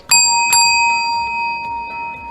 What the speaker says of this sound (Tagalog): the candidates will hear the sound of a bell once. Can we hear that?